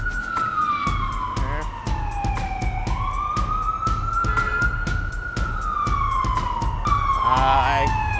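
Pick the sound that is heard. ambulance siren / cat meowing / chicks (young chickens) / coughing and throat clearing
ambulance siren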